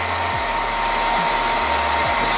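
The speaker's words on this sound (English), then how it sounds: "It's a 1600 watt hair dryer, so you can understand how powerful is this." A KORYO 1600-watt hair dryer runs steadily at close range, a loud continuous airy roar with low motor hum that shifts pitch slightly a few times as settings change, with no talking.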